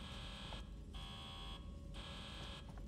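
Alarm in the sci-fi horror video game Alien Isolation, a faint electronic buzzer pulsing on and off in steady repeated bursts over a low rumbling background, no talking.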